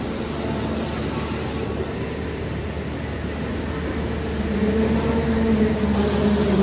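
Steady rumble and whine of a KRL commuter train in Jakarta rolling along and gaining speed, heard from inside, with a high tone and the hum swelling toward the end.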